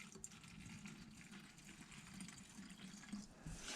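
Lacquer thinner, used for cleaning a paint gun, pours in a continuous trickling stream into a container nearby, with a faint liquid gurgle that lasts the whole stretch.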